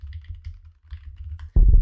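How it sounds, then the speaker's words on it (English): Keyboard typing picked up by a Razer Seiren V3 microphone: a quick run of light, close key clicks in an irregular rhythm, ending with a sudden louder thump. "there we go with the little keyboard test"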